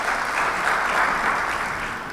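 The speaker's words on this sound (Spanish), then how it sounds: "recibámoslo con un fuerte aplauso" A conference audience claps to welcome an invited speaker, a full, continuous wave of applause from a roomful of people, steady and fairly loud for the whole moment.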